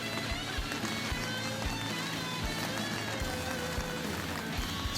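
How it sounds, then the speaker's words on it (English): Heavy rain pours outdoors during a barbecue cook, a steady wash of dense hiss with scattered drip taps throughout, fairly quiet and constant with no one talking. "It's pouring rain, miserable."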